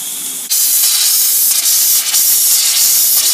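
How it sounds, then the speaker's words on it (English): A cold-water faucet in a Jayco travel trailer sputters and hisses while its lines are drained for winterizing, opening with a brief quiet moment, then a loud, continuous spray of air and water close by. "Faucet, we're going to open up the cold until all the water is out of the line and it is spitting out air"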